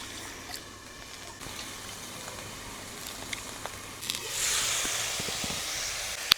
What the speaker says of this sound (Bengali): ঢাকা দিয়ে আলু বেগুনটাকেও একটু কষিয়ে নেব।